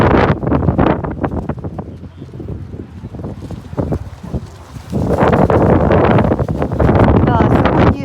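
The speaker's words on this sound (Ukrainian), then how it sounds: "Бачите, що такий вітер це жах." Loud, gusty wind buffeting the microphone in strong roaring bursts at an outdoor market, with a person speaking intermittently underneath.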